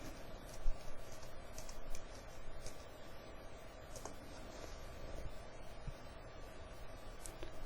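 Light typing on a computer keyboard, with sparse, faint key clicks and a few louder taps spread over a steady low background hum, no talking.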